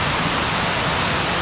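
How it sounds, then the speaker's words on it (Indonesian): River rushing beside Batu Timah waterfall on a mountain trail, a loud, steady wash of water filling the whole clip with no break and no voices. "Jadi kita harus menyeberangi sungai ini."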